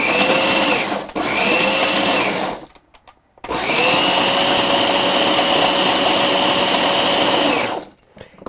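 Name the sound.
food processor mixing hard polymer clay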